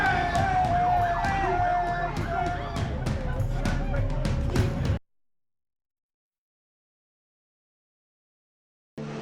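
Police sirens wailing as officers arrive at a street scene, loud and close over crowd noise for about five seconds before cutting to silence.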